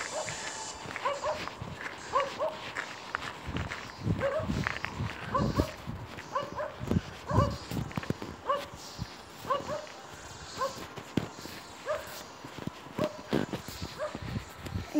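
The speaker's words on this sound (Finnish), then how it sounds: "mä säikin kun noin 2 koiraa haukkuu tuolla" Two dogs bark repeatedly at a distance outdoors, their yaps scattered through the whole stretch over steady background noise and shuffling footsteps.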